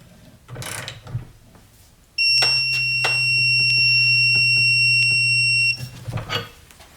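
A Harbor Freight Hercules cordless impact wrench tightens a fastener, making one loud, continuous, ringing hammering burst of about three and a half seconds between quieter handling noises.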